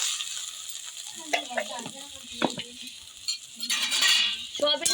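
Soya chunks are stirred in a pan with cumin, chilli and turmeric powders, producing irregular scraping and clinking of a spoon over a light sizzle, with a brief murmur of voice at times.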